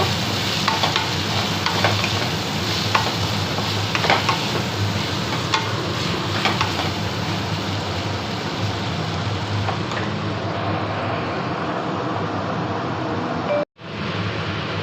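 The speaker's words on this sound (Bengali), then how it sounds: "এটাকে মুচমুচে করে ভেজে নেব।" Pointed gourd frying until crisp in a pan, a continuous loud sizzle with occasional stirring scrapes and pops, which cuts off briefly near the end before resuming.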